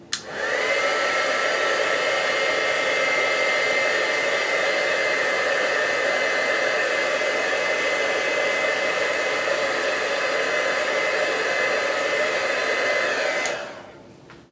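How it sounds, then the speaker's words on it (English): A heat tool blows steadily for about thirteen seconds while drying damp paint, a loud, even whooshing hum that cuts off abruptly at the end, with no voices. "If the paint is still a little bit damp, you could use your heat tool to dry it quicker."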